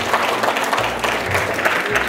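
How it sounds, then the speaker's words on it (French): A ceremony audience applauds two young graduates who earned their baccalaureate at 16 and 17, dense steady clapping filling the hall at a fairly loud, even level throughout. "Merci de les applaudir"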